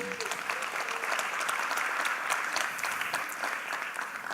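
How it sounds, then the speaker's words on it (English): An audience at a social media conference claps for a speaker, a sustained, even roar of many hands clapping throughout, moderately loud, with a faint voice briefly mixed in. "Another round of applause for Sue Lin."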